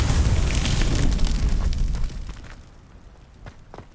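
Confringo and Incendio spell blasts in the Hogwarts Legacy video game, with a loud, booming, fiery burst that rumbles and then fades into a few faint pops.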